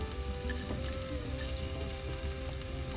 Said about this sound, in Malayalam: എല്ലാം ചേർത്ത് നന്നായി വഴറ്റി.